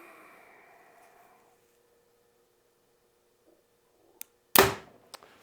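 Prime RVX 32 compound bow set at 70 pounds loosing a 350 grain arrow: a faint hum fades into quiet, followed by a sharp tick and then one loud, crisp release crack, with a short click just afterward.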